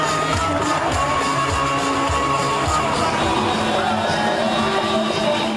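A dense crowd presses around Bhutto's slow-moving bus on its way from the airport, producing a steady, loud roar of many voices with shouts and cheers running throughout.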